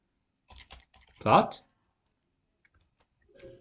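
Keys clatter on a computer keyboard in a few short, sparse bursts of clicks, with a brief voice-like sound in the middle and long quiet gaps between.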